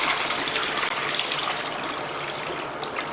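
Leftover water poured out of the bladder of a mat-cleaning sprayer used on a martial arts puzzle mat, a steady close gushing splash that runs on without a break.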